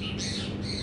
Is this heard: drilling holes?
no